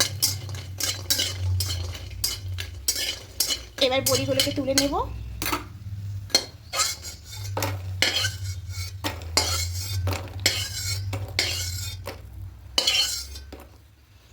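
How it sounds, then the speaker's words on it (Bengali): Lentil boris fry in oil in a pan as a spoon clinks and scrapes against the metal repeatedly, over a soft low hum, with a brief spoken line in the middle. "হালকা একটু নাড়াচাড়া করে লাল লাল করে বড়িগুলো ভেজে নেব"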